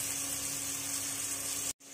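Tadka tempering sizzles on cooked dal in a home kitchen in summer, a steady close crackling hiss of hot oil that cuts off abruptly near the end.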